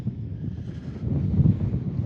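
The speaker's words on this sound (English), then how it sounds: "Yeah, it's pretty windy." Strong wind at an airport buffeting the microphone, a low rumbling roar that swells and gusts over two seconds, fairly loud, with no talk.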